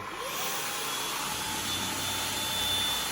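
Samsung Powerstick Jet VS9000 cordless stick vacuum cleaner running steadily, a loud, constant whine and airflow roar close by with no talk.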